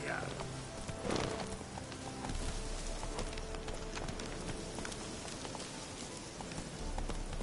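A horse's hooves clip-clop in a PS4 game, a quick running rhythm of soft footfalls under a steady hiss like rain, with a voice speaking over it near the start.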